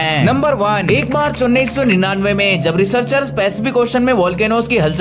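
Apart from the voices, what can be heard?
No distinct noise like a dog, phone or traffic.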